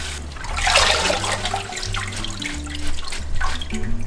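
Steady rush of running water from a tap, with soft splashing as cut napa cabbage is rinsed under the stream, continuous and close.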